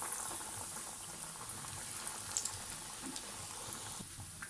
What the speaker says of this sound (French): l'huile est chaude. On y met nos galettes.